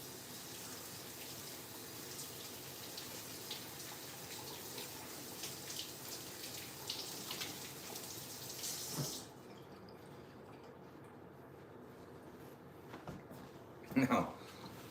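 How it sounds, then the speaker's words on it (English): A tap runs under low speech as someone washes their hands at a sink, the water faint and steady for about nine seconds. The flow then shuts off, followed by quieter handling and a brief clatter. "Let me just wash my hands quick."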